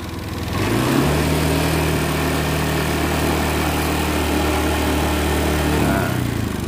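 Honda Beat fuel-injected scooter engine started and held at raised throttle, a steady, loud, even hum with a low drone that settles in after startup and holds for several seconds before easing off.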